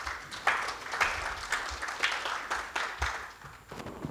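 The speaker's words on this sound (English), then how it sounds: "A round of applause for him." An audience at a conference session claps briefly for a banking executive, a fairly faint spatter of applause in a hall with no voices over it.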